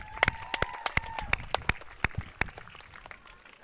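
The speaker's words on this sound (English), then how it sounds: "both teams deserve a big round of applause" Sparse, scattered handclaps from a small outdoor crowd applauding the teams at a women's football grand final, individual sharp claps standing out and thinning toward the end.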